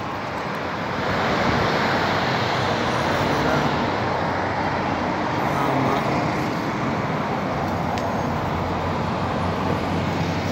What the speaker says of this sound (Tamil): கடல் ஓரத்தில் நின்றுக்கிட்டு இருக்கிறேன்